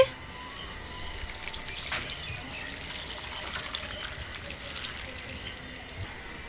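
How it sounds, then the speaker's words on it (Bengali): Water poured into a pot for chicken dum biryani, a steady close trickling stream running continuously at moderate level with faint background noise. "এবার পরিমাণ মতন জল দিয়ে দিচ্ছি।"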